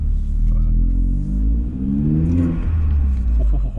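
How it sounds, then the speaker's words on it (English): Vauxhall Astra H VXR turbocharged engine with its crossover pipe removed, idling cold with a deep steady rumble and light revs rising and falling, near and loud, with no talk over it. "Oh, I've got turbo noises."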